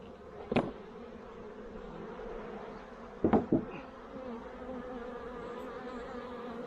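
A steady insect buzz of agitated honeybees hums throughout close by during a honey harvest as supers are removed, with a few brief louder knocks and bumps cutting through.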